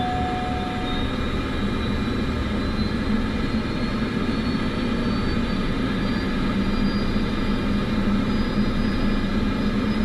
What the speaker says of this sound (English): Good engine start.